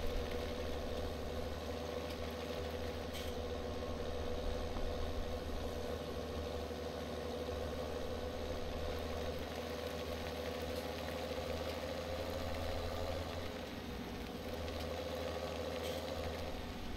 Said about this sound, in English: Let's go and park this tractor.